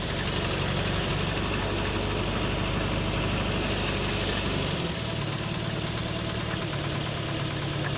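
Renault Caravelle engine idling after a restart following twenty years off the road, a loud continuous rumbling drone whose low throb shifts and settles partway through, close by, with no voices.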